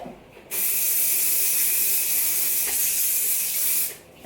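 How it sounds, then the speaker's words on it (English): Hairspray sprayed from underneath flipped, textured lob-length hair: a single steady, loud hiss lasting about three and a half seconds, starting and stopping abruptly, close up and alone. "So what I like to do is just hairspray from underneath."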